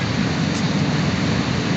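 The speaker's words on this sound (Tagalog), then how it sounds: "Dahil patuloy ang malakas na pag-ulan at hangin" Heavy rain and wind from a storm roar in front of a house on a flooding street, a loud, dense, continuous wash of noise with no pauses.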